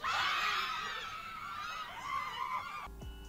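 A person imitates a zombie scream with a strained, raspy, goose-like shriek held for about three seconds, loud and close, then cut off abruptly.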